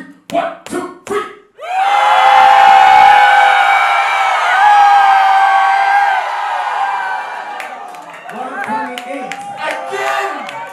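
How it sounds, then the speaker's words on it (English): A crowd at a house dance callout battle final in Japan erupts in loud, sustained cheering and shouting for the dancer Frankie. The roar lasts several seconds after a short spoken countdown, then fades into scattered voices. "If the crowd feels that Frankie has won, you make some noise at the count of three."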